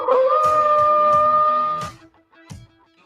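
A howl sound effect in a radio advert rings out loud and sustained, a long wavering tonal cry lasting nearly two seconds before fading, then a short faint echo of it afterward.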